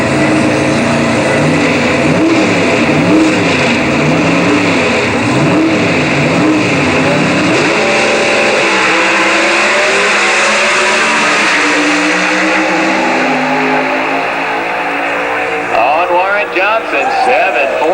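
A drag racing car makes its run at the 1988 NHRA Winternationals in Pomona, a loud continuous engine roar rising and shifting in pitch for most of the stretch, with an announcer talking over it throughout.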